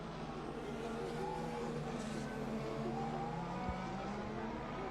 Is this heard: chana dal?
no